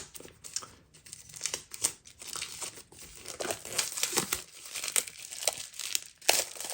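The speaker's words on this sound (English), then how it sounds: "See if I can get the plastic off here." Plastic wrap is crinkled and peeled off a limited edition 4K box set, with close, continuous crackling and tearing rustles in irregular bursts, no talking.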